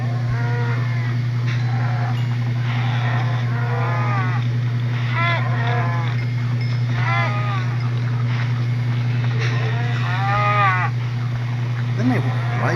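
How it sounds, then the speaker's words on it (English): Several cows mooing in the Minecraft mobile edition, drawn-out bellowing calls spaced every couple of seconds over a constant low engine-like drone. "We got a bunch of lovesick cows that are not mating."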